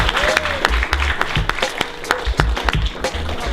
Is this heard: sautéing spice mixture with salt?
no